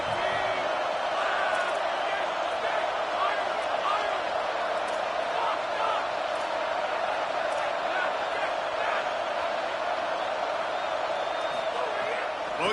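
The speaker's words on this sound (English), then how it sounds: "how nice is it to have the home crowd going absolutely bananas?" A home crowd in an American football video game roars steadily and loudly, a dense wall of cheering and whooping that holds without a break throughout.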